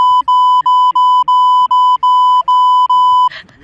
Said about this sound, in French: il mettra un bip